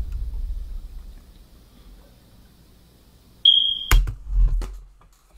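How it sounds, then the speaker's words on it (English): One brief, piercing beep from a smoke detector with a dying battery cuts through near silence, followed quickly by a couple of dull knocks and handling noises. "Smoke alarm going off every single 30 seconds"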